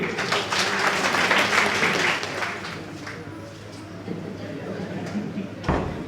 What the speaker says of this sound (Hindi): एक और ताली हो जाए सबके लिए।